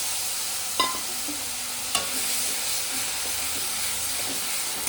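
Ground paste of tomato, onion, ginger and green chilli frying in hot oil in a wok for a spicy fish curry, a steady close sizzle with two sharp clinks of a spatula stirring.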